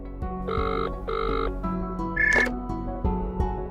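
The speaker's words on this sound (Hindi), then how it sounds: "नहीं, अभी वो बेल जा रही है।" A telephone ringback tone during a call, two long electronic rings with a short gap between them, followed by some clicks and a brief higher chirp, heard alone and close.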